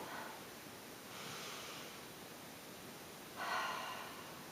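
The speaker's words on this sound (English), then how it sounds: "take a deep breath" A slow, deep breath taken during a guided EFT tapping session for releasing self-judgment: soft, close, airy inhales and exhales in several gentle swells, quiet and alone with no talking.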